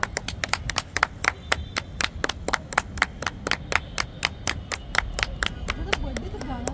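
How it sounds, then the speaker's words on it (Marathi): A crowd at a live drone show in Sadashiv Peth, Pune claps in a fast, even rhythm, sharp claps repeating steadily from start to finish at close range. "टाळ्या."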